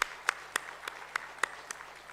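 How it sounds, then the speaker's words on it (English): Applause at a Guru Padmasambhava conference comes through as a sparse, even run of separate hand claps, roughly four per second, fairly faint over a quiet room. "give them a round of applause for coming and doing this"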